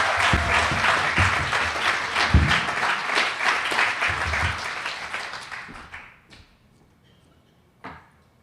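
Warm audience applause at a steward recognition dinner, many hands clapping steadily for several seconds before fading out, with a brief final clap after a pause.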